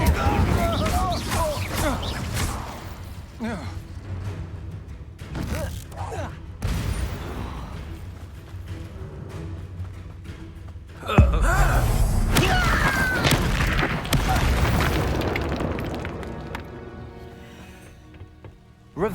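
In the Hogwarts Legacy video game, an Incendio fire spell is cast amid a string of sharp magical bursts, thuds and crackling blasts, with a loud whoosh-like surge near the middle, all layered over game ambience.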